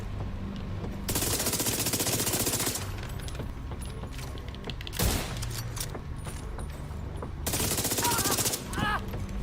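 Automatic gunfire from The Division 2 fires in long loud bursts with pauses between, plus a single heavy shot and mechanical clicks, while a player talks over it.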